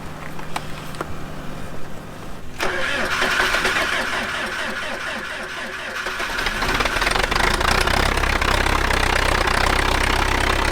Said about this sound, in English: we're gonna cold start the forklift again for you